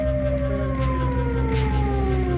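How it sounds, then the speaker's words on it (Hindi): An air raid siren sounds an alert in Israel, a loud, steady wail with slowly falling tones. A faint rapid pulsing runs under it, and it keeps going without a break. "इजराइल में सायरन का अलर्ट बजने लगा।"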